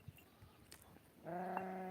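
A sheep in a shepherd's grazing flock gives one long, wavering bleat close by, filling the second half after a quiet outdoor stretch with faint background rustle.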